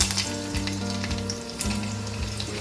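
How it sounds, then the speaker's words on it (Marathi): Finely chopped garlic frying in hot oil in a kadhai with curry leaves, a steady close sizzle with light stirring scrapes, continuous and alone without speech. "मग हे झालं की आपण त्यात घालणार ही बारीक चिरलेली लसूण"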